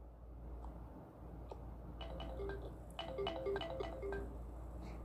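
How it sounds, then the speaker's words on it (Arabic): Bright toy xylophone from a Toca Boca game rings out in short tuned notes, a few single taps then a quicker run of several, moderately loud over a low steady hum with no talking. "العب بالإكس تليفون سمعني صوته"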